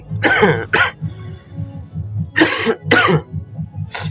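Several harsh coughs in short clusters, close and loud, with quiet pauses between them and a low hum in the background.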